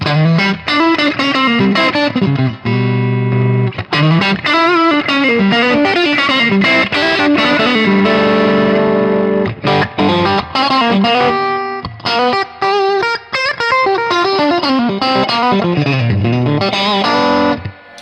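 Heavily distorted electric guitar playing chords and riffs with a chorus-like shimmer, loud and continuous throughout, no voices.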